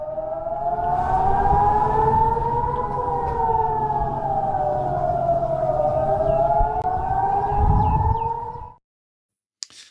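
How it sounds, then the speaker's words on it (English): Air raid sirens wail steadily in Israel during a missile attack, their pitch slowly rising and falling together for several seconds, then cut off abruptly into silence. "You can hear the sirens going off in the background."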